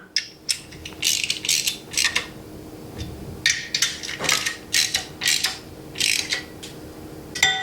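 A ratchet snugs down a mounting bolt through thin steel while mounting a lube cube, giving repeated close bursts of rapid clicking separated by short pauses.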